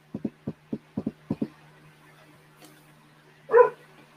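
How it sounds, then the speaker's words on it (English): A dog barks outside in a quick string of about nine sharp, fairly distant barks, then a pause and one final louder bark after a steady low hum. "You done barking out there, Barky?"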